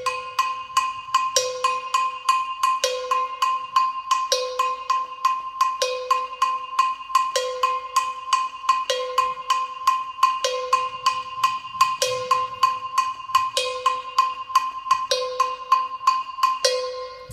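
A Gankogui double bell rings the Gahu pattern at a much faster dance tempo: quick ringing metallic strikes with a lower bell tone recurring roughly every second and a half, loud and close, steady throughout with no voices.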